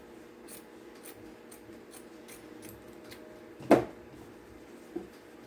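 Scissors cut fabric pieces off a quilt square, giving faint rustling and one sharp snip followed by a smaller second one, close and quiet.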